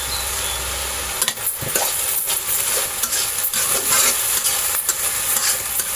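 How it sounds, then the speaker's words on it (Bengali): Dhenki shak, fiddlehead fern greens, are stir-fried in a pan, with a steady sizzle broken by repeated scraping and knocking of a spatula against the pan, close and fairly loud, with no talking. "ঢেঁকি শাক কিন্তু ভাজি করার সময় নাড়তে হবে"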